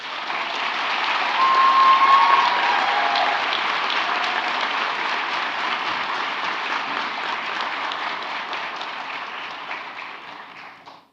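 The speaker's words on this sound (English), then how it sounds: "this is your chance to give those members of staff a huge round of applause" Large audience at a university graduation ceremony applauds staff in a big hall, dense even clapping swelling quickly, holding steady for several seconds, then tapering off at the end.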